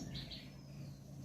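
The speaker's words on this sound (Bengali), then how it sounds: "চারিদিকে পাখির কলতান ভেসে আসছে কিচিরমিচির শব্দ" Small birds in quiet rural surroundings at Ajhapur, Purba Bardhaman give a couple of faint, distant chirps at the start, then only soft background hum remains.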